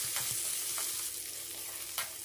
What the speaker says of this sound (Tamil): அந்த வெங்காயம் கொஞ்சம் வதங்க வரைக்கும் வெயிட் பண்ணிக்கலாம்.